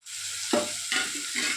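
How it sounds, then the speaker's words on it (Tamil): Tomatoes sizzle in a pan for a simple home-cooked Tamil lunch. A constant frying hiss is broken by three distinct stirring scrapes, all close by and with no voices. "தக்காளி கொஞ்சம் வதங்கட்டும்."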